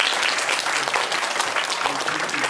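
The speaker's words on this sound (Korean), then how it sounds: "이 정도면 여러분들한테 충분히 박수도 한번 하죠." Applause from a lecture audience at the close of a class on herbal medicine, a steady dense patter of many hands clapping throughout at moderate distance.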